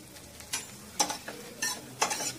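Parboiled rice being fried in oil while a spoon stirs it, bursts of scraping and sizzle at a steady rhythm, close and fairly quiet, with no talk.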